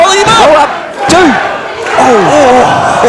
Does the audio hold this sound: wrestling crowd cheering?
yes